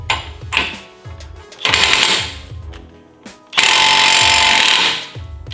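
A large impact wrench removes a vehicle axle nut in loud, sustained rattling hammering bursts, three of them separated by brief pauses, close up with no talk.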